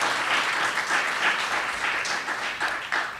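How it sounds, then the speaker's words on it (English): A round of applause for an honoree at a township Veterans Day ceremony: steady, fairly close clapping from a modest crowd, sustained for a few seconds with no talking over it. "A nice round of applause again for Vernon Tatum."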